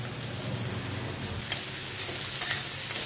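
Steady crackling sizzle of onions frying in a hot pan, close and continuous, with a couple of brief clinks from stirring.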